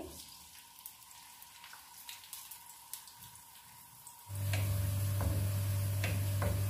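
Onions dropped into half a cup of hot oil in a pan for Punjabi chicken pulao, a faint ticking gives way to a sudden, steady, loud sizzle that continues close by.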